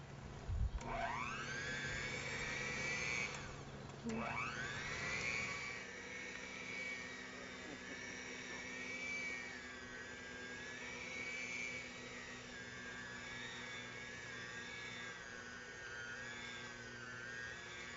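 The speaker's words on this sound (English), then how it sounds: "Now, I have a blender, but if you don't, you can mix it by hand." A blender whirs loudly while mixing Pão de Queijo dough, its motor pitch sweeping up at the start, briefly dropping and restarting, then settling into a steady wavering whine for the rest of the run.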